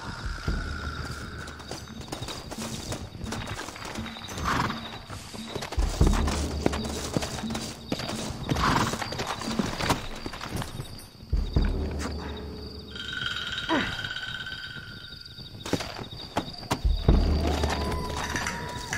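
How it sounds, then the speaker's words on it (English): Horse hooves clip-clop at a steady gallop in Red Dead Redemption (2010), over a busy game soundtrack, with occasional whinnies and bursts of action in the background. "Looks like Carlos left us some horses"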